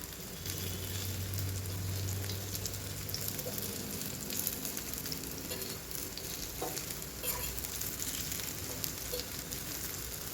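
Colocasia leaf vadi shallow frying in oil in a pan, a steady close sizzle with soft crackling and occasional stirring or turning sounds throughout, with no voices.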